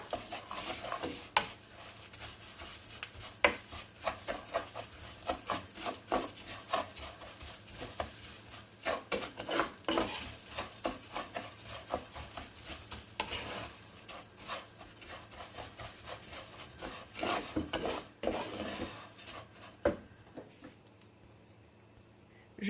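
Golden toasted vermicelli being stirred in a pot with a glass of rice just added, giving a steady scraping and clinking of a spoon against the metal over a faint sizzle, with no talk.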